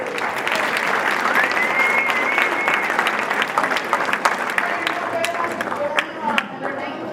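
Audience applause at an elementary school third-grade strings performance, steady dense clapping filling the room for several seconds with some cheering mixed in, tapering slightly near the end.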